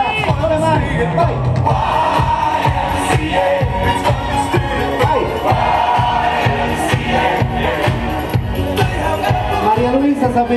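A lively wedding reception crowd cheers, whoops and claps continuously and loudly, with shouting voices and music-like tones running through the noisy, sustained din.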